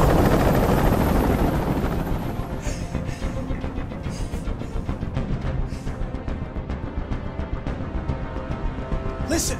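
A helicopter hovering nearby in the video game Detroit: Become Human, its rotor thumping in a fast, steady pulse that stays loud and constant, with little else over it.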